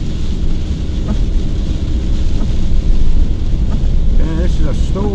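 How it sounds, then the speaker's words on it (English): Storm wind buffeting a van while driving in Scotland, a loud, constant low roar with rain-like hiss and faint wiper or cabin knocks, a voice speaking briefly over it. "Yeah, this is a storm, brother."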